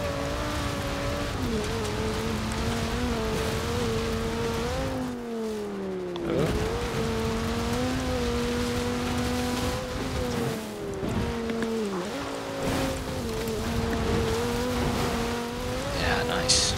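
A stock 2009 Audi RS 6 V10 in Forza Horizon 4 held at high revs above 6,000 rpm, a steady loud engine drone with pitch dips and swells as the car corners, briefly cut near the middle, with talk over it.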